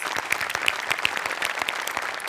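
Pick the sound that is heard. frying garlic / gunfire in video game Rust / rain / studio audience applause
studio audience applause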